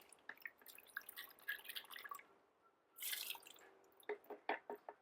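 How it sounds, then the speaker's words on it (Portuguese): Water heavy with leftover clay poured back into a clay recycling bucket, heard as scattered close drips and trickles, a brief fuller splash of pouring midway, then a run of distinct separate drops. "E essa água volta para o balde da reciclagem."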